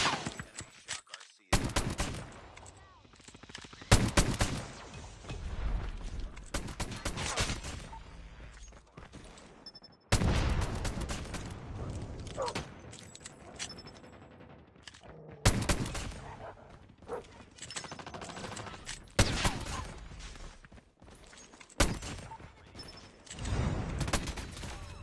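J538 pistol fire in the shooter game Call of Duty Mobile, heard as loud clusters of rapid shots separated by short pauses across the whole stretch, with some game noise in between.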